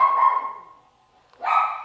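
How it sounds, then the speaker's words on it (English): A dog gives two short, loud barks indoors, each with a yelping tonal edge, separated by a brief quiet gap. "that's my dog"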